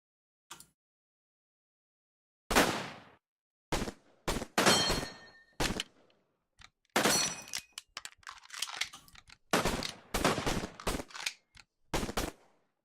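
Firing-squad gunfire in the Unconventional Warfare video game: a lone early shot, then loud, sharp volleys and rapid bursts in irregular clusters separated by brief silences.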